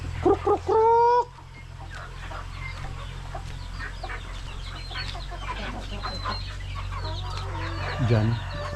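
Loud, close clucking and squawking from chickens bursts out at first, then softer hen chatter and rustling continue inside a coop with chicks.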